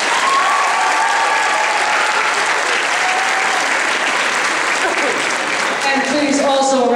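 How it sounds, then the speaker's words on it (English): Sustained, loud audience applause fills a school Christmas concert hall, dense and steady throughout, with faint voices rising near the end. "Again, please, a round of applause for Lenny Adams for joining us."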